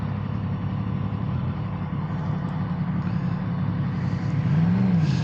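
A car creeps slowly across a stony car park, its engine running as a steady low drone close by, with a slight rise in revs toward the end.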